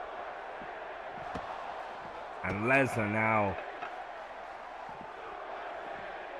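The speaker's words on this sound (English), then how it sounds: "And the crowd called for it, and they got it." An arena crowd murmurs and roars faintly in the wrestling video game WWE 2K16, a steady distant din beneath a commentator's voice that speaks briefly in the middle.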